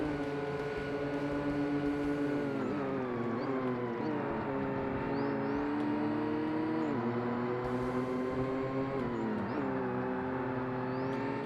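Several racing car engines drone together at a high, strained pitch, holding near their limit with slight dips and rises, loud and continuous.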